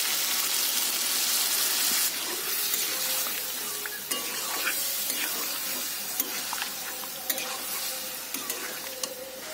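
Chicken sizzles in a pan while a small amount of water is added and the pieces are stirred, giving a steady frying hiss with scattered scraping and splashing sounds close by.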